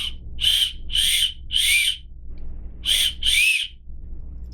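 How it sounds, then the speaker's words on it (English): A Wombat Whistle Kit survival whistle is blown in five sharp, shrill blasts, three evenly spaced, then a pause and two more, loud and close with no talking. "this is the Wombat Whistle Kit. I'm gonna whistle real."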